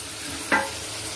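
Tomatoes go into a kadai chicken masala and are stirred, giving one short sizzling scrape against a soft, steady background hiss.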